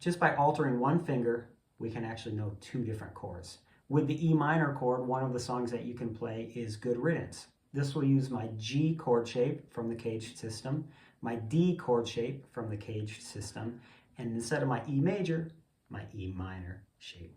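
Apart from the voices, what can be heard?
No everyday noises stand out.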